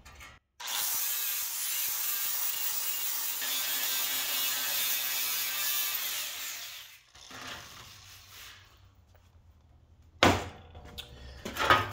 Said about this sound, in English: I'm just going to go at it with a right angle grinder and the flap wheel